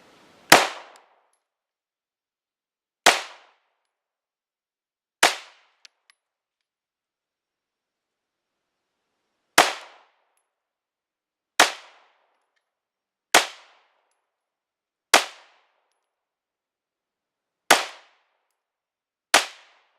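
Gunshots at targets on an outdoor shooting range: nine sharp single reports spaced a few seconds apart, each a crisp crack that quickly fades, with near silence between and no speech.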